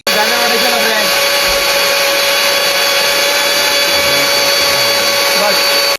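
A kitchen mixer grinder runs steadily and loud, blending a chicken curry paste in its jar, with a continuous high motor whine filling the whole stretch and no speech over it.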